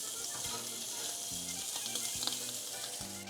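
Bacon sizzles and crisps in a pan on a stovetop, a steady close hiss of frying fat with occasional faint pops and clicks of handling, no voices.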